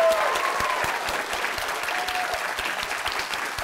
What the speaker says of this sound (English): I think one final round of applause has to go to him.